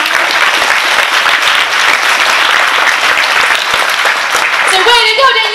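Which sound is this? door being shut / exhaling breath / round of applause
round of applause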